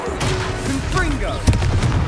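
Confringo blasting spell cast in Hogwarts Legacy, a dense burst of booming, crackling game blasts with a sharp crack near the end, under voices and music.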